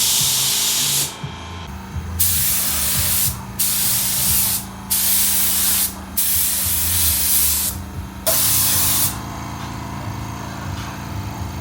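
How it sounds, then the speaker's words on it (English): A paint gun sprays custom paint onto a drift car in loud hissing passes, each burst cut by brief pauses in a repeating rhythm. "We're gonna start spraying."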